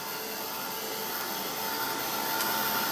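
A heat gun blows steadily to dry a painted mirror board, giving a continuous loud, even whooshing hum that holds for the whole stretch with no talking.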